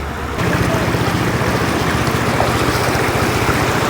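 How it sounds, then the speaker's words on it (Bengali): Fast floodwater rushing across a road in Melandah–Mahmudpur, Jamalpur, a loud, dense, continuous roar of moving water with steady wind buffeting on the microphone and no talk. "পানির গতিবেগ অনেক, তো খুব দ্রুত পানি ঢুকতেছে"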